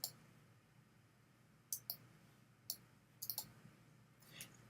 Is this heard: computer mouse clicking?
yes